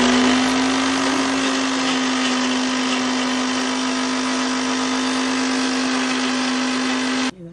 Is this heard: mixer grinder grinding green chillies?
yes